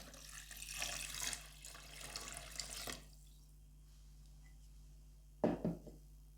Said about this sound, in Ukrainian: Заливаю сало водою.